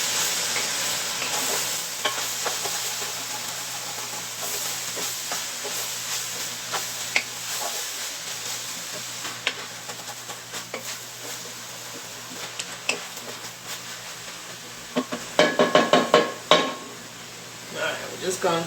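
Vegetables cook down in a pot for chicken and dumplings with a continuous loud sizzle and hiss, then spoon stirs and a burst of clattering utensil scrapes near the end.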